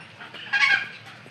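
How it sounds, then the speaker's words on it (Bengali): A Blue Swedish call duck gives one short, loud nasal call in the middle of a brief stretch of quiet outdoor background. "এই হাঁসের নাম হচ্ছে ব্লু সুইট"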